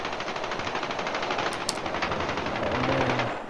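Rapid automatic gunfire in the video game Battlefield Hardline, with a dense stream of shots continuing for several seconds amid loud ambient game noise.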